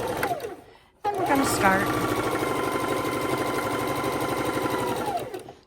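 A sewing machine runs steadily while quilt blocks are chain stitched, a loud, continuous mechanical whirr after a brief pause, with someone talking over it at the start.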